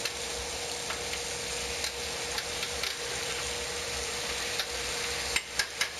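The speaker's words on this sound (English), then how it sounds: "Our beef we're going to cook for a few minutes" Beef steak sizzles steadily in a hot pan, a faint even frying hiss with a few soft ticks and clicks, then some sharper knocks near the end.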